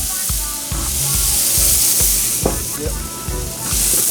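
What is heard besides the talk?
flank steak sizzling on a charcoal grill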